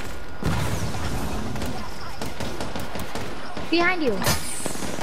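Explosions from an airstrike in the video game Apex Legends, a rapid series of booms and gunfire-like cracks with people talking over the top.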